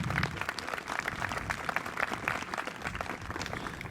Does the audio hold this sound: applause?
yes